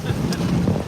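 Strong wind gusts of 70 to 90+ mph in the Columbia River Gorge buffet the microphone in a loud, rumbling low roar, with brief voices in the background.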